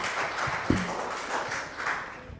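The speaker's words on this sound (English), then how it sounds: "A round of applause for him." A small audience claps for a student at a school drug awareness session, a short burst of fairly soft, scattered applause heard from a distance in a room.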